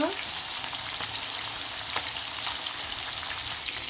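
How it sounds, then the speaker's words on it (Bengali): Pieces of chicken fry in hot oil with a steady, dense sizzle that holds loud and even throughout, with no talking over it. "গরম তেলে মাংসগুলো একদম সুন্দরভাবে লাল লাল করে ভেজে নিব"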